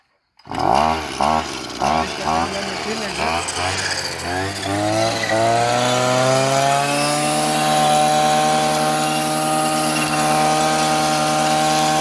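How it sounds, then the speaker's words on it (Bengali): An engine-driven grass-cutting machine starts up outdoors in Italy, revving in choppy bursts before settling into a loud, steady droning whine close by. "আপনারা দেখতে পাচ্ছেন যে কিভাবে মেশিন দিয়ে ঘাস কাটতে হয়।"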